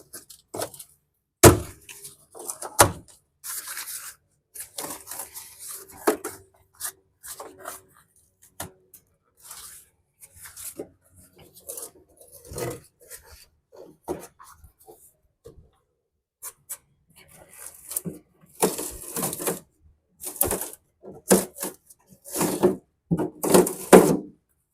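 Old headliner fabric being peeled and torn off the passenger side of a VW Beetle interior, with scattered dry rips, scrapes and cracks coming in irregular bursts at close range.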